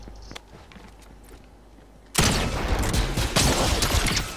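Sudden loud burst of gunfire in Fortnite's Star Wars crossover, starting after quiet footsteps and continuing as dense, rapid shooting aimed at the player.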